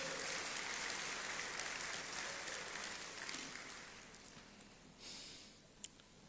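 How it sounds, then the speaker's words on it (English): Scattered audience applause at an official Ghanaian citizenship ceremony for members of the African diaspora, moderately loud at first and thinning out over several seconds, ending in a few isolated claps and a short bump of noise. "Shall we do a big round of applause?"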